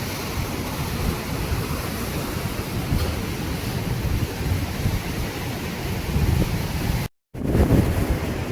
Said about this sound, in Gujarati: જો કેવા મોજા ઉછળે છે